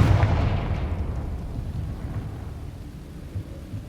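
The Confringo blasting spell in Hogwarts Legacy lands with a deep, booming burst at the start that rumbles and fades over a few seconds.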